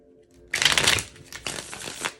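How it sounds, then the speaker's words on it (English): A deck of tarot cards gets a quick shuffle, a close, loud burst of riffling followed by softer flicks and slaps of cards, with no talk over it. "So a little quick shuffle."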